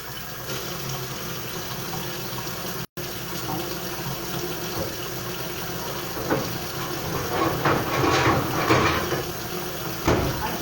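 Potatoes are washed under a running kitchen tap, a steady splashing stream of water with brief louder surges of scrubbing and splashing near the end.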